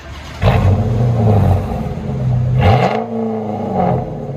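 A 2006 Chrysler 300C 5.7L HEMI V8 dual exhaust with DynoMax Race Bullet resonators rumbles and revs up twice, deep and loud, with a throaty roar rising and falling between the revs.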